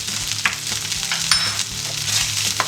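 Seitan sizzles steadily in a hot pan while being stirred, with irregular scraping clicks of the utensil over a continuous close frying hiss.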